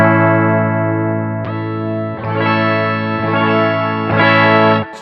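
Electric guitar played through a DigiTech Whammy pedal set to harmony octave up, the shifted high octave layered over the dry note; sustained chords and strums ring loud and steady for several seconds with no talking.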